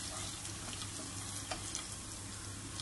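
Garlic and cumin sauté in a pan for palak paneer, giving a faint, steady sizzle with a low hum beneath it and a couple of small pops.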